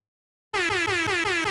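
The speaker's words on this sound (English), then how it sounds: "Just for you guys, you get an air horn." A loud, blaring air horn bursts in after half a second of silence and holds one steady, brassy, multi-toned blast to the end, with no voices.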